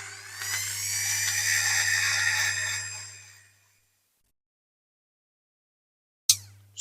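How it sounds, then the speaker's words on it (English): A jeweler's rotary tool on a low setting grinds casting lines off a Dinky Toys Gloster Meteor diecast model, a close high whine that stops after a few seconds, then silence and a sharp click. "I've just been going round with a jeweler's tool on a low setting, just taking the casting lines off"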